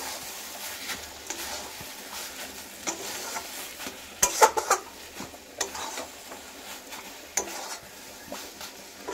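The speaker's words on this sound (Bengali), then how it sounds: "চিনিটা দিয়ে নাড়াচাড়া করছি।" A spoon scrapes and stirs sugar into drumstick leaf bharta in a pan, repeated close stirring clinks over a faint low sizzle.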